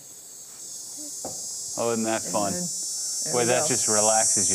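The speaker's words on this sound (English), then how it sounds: "That's the dog day cicada." A steady, high-pitched dog day cicada drone hums continuously throughout, while a person talks over it in the foreground.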